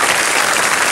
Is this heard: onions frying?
no